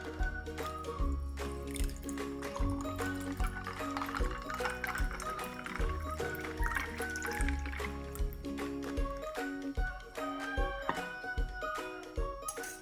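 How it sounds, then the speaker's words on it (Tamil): Shaken kulukki sarbath with lemon and chili is poured from a shaker into a glass over ice cubes, a steady liquid splash running under prominent background music. "ஷேக் பண்ண இந்த குலுக்கி நான் இந்த கிளாஸுக்கு ட்ரான்ஸ்ஃபர் பண்ணுறேன்"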